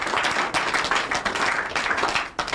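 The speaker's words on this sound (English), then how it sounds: "If you won't clap, we're going to clap." Studio audience and hosts on a Nigerian family television program clapping in a dense, continuous burst of applause, fairly close and loud, with no talking over it.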